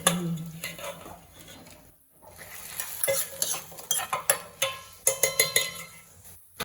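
Keerai greens are sautéed in a pan, with a spoon scraping and stirring over a soft sizzle, then a quick series of sharp metallic taps against the pan near the end.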